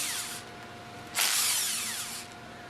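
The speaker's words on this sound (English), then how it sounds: "Use the impact wrench with a 5mm hex attached to loosen the 4 bolts from the top cover." Impact wrench with a 5mm hex bit loosening the top cover bolts of an MK MKSR piston pump, a steady whirring buzz that surges louder for about a second midway, close and alone.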